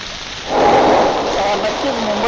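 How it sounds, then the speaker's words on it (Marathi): Heavy monsoon rain pours down in Andheri, Mumbai, where a subway lies flooded; a dense, loud hiss of downpour swells in after a quieter moment and holds steady. "मुंबईमध्ये जो कालपासून मुसळधार पाऊस कोसळतोय"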